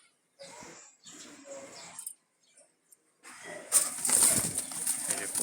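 Jalali pigeons for sale flapping their wings, with brief fluttering bursts separated by short silences, followed by a louder, denser flurry of wingbeats close by near the end.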